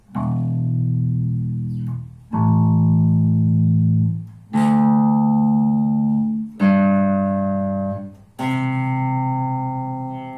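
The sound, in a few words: bass guitar through amplifier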